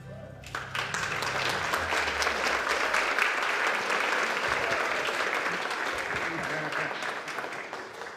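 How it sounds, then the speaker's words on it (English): An audience at a school district board business meeting applauds counseling and counselor support staff, a steady dense wash of many hands clapping that swells quickly and holds loud throughout. "One more round of applause for our wonderful counseling and counselor support staff members."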